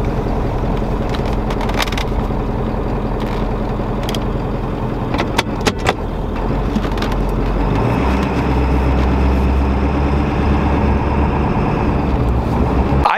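A 26-year-old pickup truck with freshly redone paint idles and rolls out of a garage into overcast daylight, a steady low engine rumble swelling and deepening partway through, with a few brief metallic clinks near the middle.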